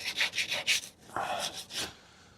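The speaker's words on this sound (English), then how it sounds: "We can sand it a little bit." Bodywork on a Mk3 Ford Zephyr hotrod is sanded by hand. Several quick rubbing strokes follow in a steady rhythm, then a short pause and a few longer passes. The sound is soft and close.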